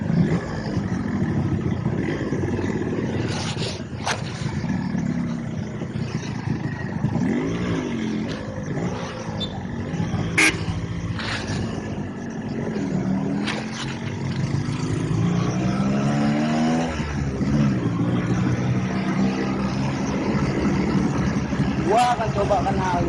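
A Yamaha RX King Cobra two-stroke motorcycle engine runs and revs beneath someone talking throughout, the engine drone rising and falling steadily close by.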